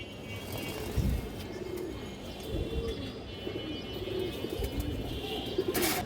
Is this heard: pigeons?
yes